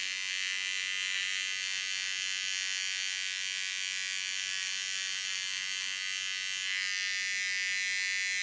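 An electric hair clipper buzzes steadily and close by, a constant high whine with small shifts in pitch as it moves through hair during a nape shave, with no voices over it.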